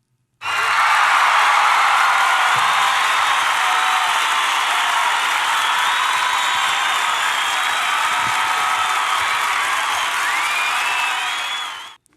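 An applause sample plays on a podcast: a steady, dense wash of clapping that starts abruptly, holds at an even loud level for about eleven seconds with no voices over it, then cuts off.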